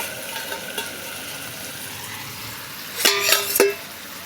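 Fish-head chorchori cooks in a pan over a wood fire while a ladle stirs it. A soft steady sizzle runs underneath, and near the end comes a short loud burst of metallic scraping and clanking.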